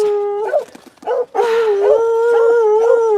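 Farm dogs howl and bark close by outdoors on a cold day, with long wavering howls broken by a few short barks and whimpers, loud and continuous with no talk.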